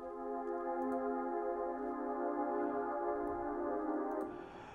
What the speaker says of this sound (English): this is a choir sample.